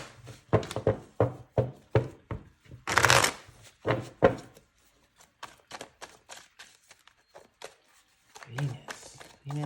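Tarot cards being shuffled and drawn in a rapid run of crisp riffles and slaps, close and fairly loud, breaking off into quieter handling near the end.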